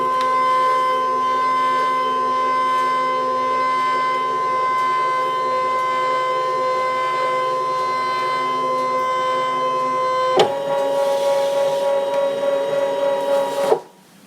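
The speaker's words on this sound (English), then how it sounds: "Direct cut from the machine and go." A ScanNCut cutting machine cutting out a flower card gives a steady mechanical whine with a constant pitch, then shifts to a different tone for a few seconds before stopping abruptly, close and alone.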